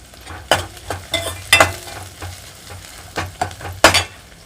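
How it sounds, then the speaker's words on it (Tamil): Onions being sautéed in a pan for lake kendai fish curry, quiet frying punctuated by a handful of sharp spatula scrapes and stirs in irregular bursts, close up with no talking. "இந்த வெங்காயத்தை வதக்கி விட்டுக்கலாம்."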